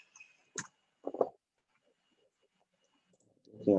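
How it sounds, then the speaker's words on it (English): A computer mouse gives a few sharp, close clicks separated by short silences, with a soft voice starting at the end. "Clicking on save."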